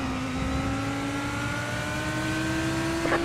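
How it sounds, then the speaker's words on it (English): A race car engine in the iRacing sim racing game, a steady sustained drone with a slowly rising pitch, like a car holding speed on track, clear and continuous with no speech. "Your car sounds so beautiful."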